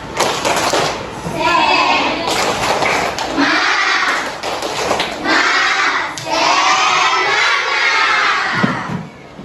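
An Indonesian school class performs the tepuk semangat cheer, children shouting rhythmic chant phrases in unison with claps and thumps, loud and close in the classroom, in several bursts over nine seconds.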